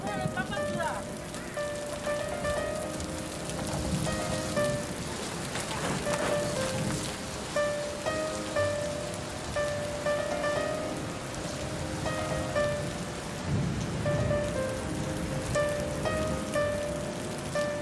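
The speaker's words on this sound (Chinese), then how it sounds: "只是下雨了" Steady rain patters on surfaces around a school at a newspaper-selling spot, a dense hiss that runs throughout while children and adults talk over it.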